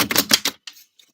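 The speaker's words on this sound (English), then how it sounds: "Let's get a good shuffle in." Tarot cards being shuffled by hand during a full moon reading, a quick burst of dense crisp riffling clicks followed by a few softer scattered taps, close and fairly loud with no talking.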